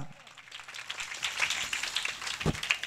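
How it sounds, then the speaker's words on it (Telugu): A church congregation claps hard and enthusiastically, a dense, fairly close patter of many hands lasting a few seconds, with a voice speaking over the applause. "ఈ మందిరంలో కమిటీ వాళ్ళందరికీ చప్పట్లు కొట్టండి గట్టిగా"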